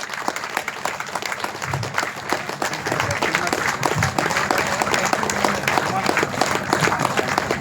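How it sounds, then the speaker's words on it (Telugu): A stage-welcome applause for a senior pyramid master: dense crowd clapping sustained throughout, steady and fairly loud, with a few louder low thumps near the start. "గట్టిగా క్లాప్ చేయండి."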